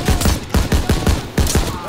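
Rapid rifle and machine-gun fire in a Call of Duty WW2 battle, sharp shots cracking in quick rhythmic bursts, loud and close.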